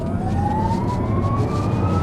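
A 2022 Genesis GV60 electric SUV plays its synthetic motor driving sound, a smooth electronic whine that climbs steadily in pitch over a low hum, close and continuous.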